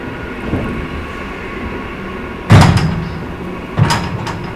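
MEMU passenger train standing at a station platform, with a steady low rumble of the train and station ambience and two sharp bursts, like door or carriage clatter, near the end.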